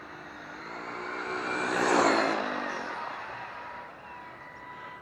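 A Traxxas Maxx 6s RC car on a full-throttle speed run, a high electric whine swelling as it races past and peaks near the middle before fading, loud and close, no talk.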